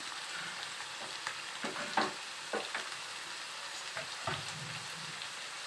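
Fresh curry leaves frying with ivy gourd on high flame, a soft, even crackling sizzle like light rain, with a few quiet spatula scrapes, no one speaking.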